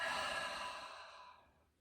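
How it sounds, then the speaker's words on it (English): A long breath exhaled through the mouth at the end of a yoga twist, a close, airy sigh that gradually tapers off to quiet. "and exhale through the mouth"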